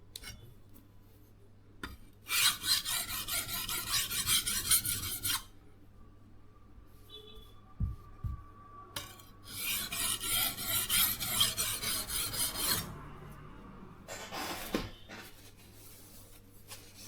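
A kitchen knife from IKEA, a FJÄLLRÖDING santoku, is drawn across a Sharpal whetstone in two long bursts of steady scraping, with a faint low hum and a couple of soft knocks in the pause between.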